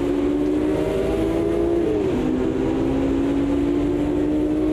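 Ferrari 250 GTO racing engine in the Automobilista 2 racing game, a loud sustained drone holding steady, then dipping briefly as the gear shifts before settling at a slightly lower pitch.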